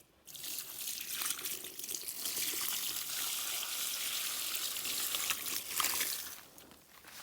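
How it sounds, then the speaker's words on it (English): Water poured from a bucket onto a potted house plant indoors, a steady close splashing gush lasting several seconds before tapering off, no talk. "I'm just gonna give it some water."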